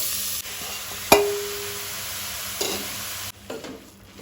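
Grated carrot sautéing in ghee in a pan, a steady close sizzle broken by a sharp metallic clink of a spoon on the pan and a few stirring scrapes.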